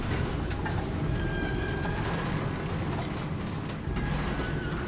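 A heavy train being dragged in the Darksiders video game: a dense, continuous grinding and rumbling rattle with faint metallic creaks, steady and loud throughout.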